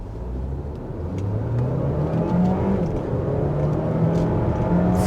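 A 2024 Dodge Hornet R/T plug-in hybrid pulls away in hybrid mode, its engine and exhaust droning and rising steadily in pitch over road and wind noise, heard from inside the cabin with no talking.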